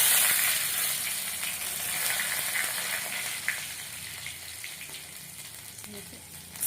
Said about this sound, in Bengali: কড়াইটা গরম হয়ে গেছে, এর মধ্যে আমি জিরে দেবো, গোটা জিরে, আদা, শুকনো লঙ্কা, তেজপাতা